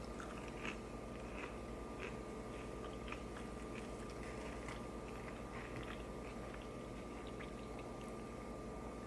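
Someone chews Jack in the Box curly fries up close, with soft, steady crunching bites that repeat through the clip. There is no talk.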